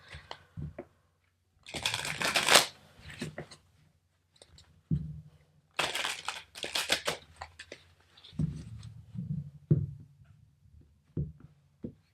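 Tarot cards are shuffled by hand in a few close bursts of rapid riffling and flicking, broken by soft taps and handling noises, with no speech.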